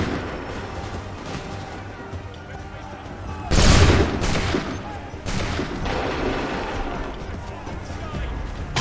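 Musket volley gunfire in Assassin's Creed III Remastered: a loud burst of massed shots crashes out partway through, followed by a second volley, with shouted commands and battle din all around.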